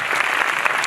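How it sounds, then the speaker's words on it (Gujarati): Dense applause from an audience at a drug awareness event, a steady wash of many hands clapping close and loud with no gaps across the short stretch. "અને એકવાર જોરદાર તાળીઓ થવી જોઈએ"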